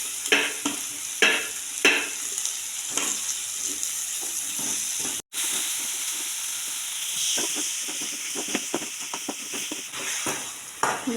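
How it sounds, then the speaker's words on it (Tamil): Eggplant pieces sizzle and fry in hot oil for a Tamil dried-fish curry, karuvattu kuzhambu, a steady close hiss broken by repeated scraping stirs, with a brief dropout midway. "இது அப்படியே ஒரு 2 நிமிஷம் அப்படியே கொஞ்சம் வதங்கட்டும், நல்லா வேகட்டும்."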